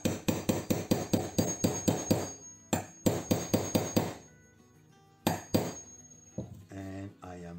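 A steel hammer strikes a punch to drive out a pin on a SAR 2000 B6 CM9 P8 pistol, ringing metallic blows in a quick steady series, then a pause and a few more sharp hits, with a voice briefly at the end.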